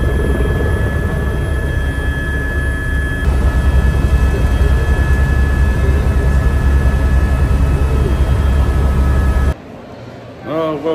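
A helicopter on a sightseeing ride in Las Vegas produces a loud, constant rotor and engine drone with a steady whine, heard from inside the cabin. People talk over it, and the drone cuts off abruptly near the end.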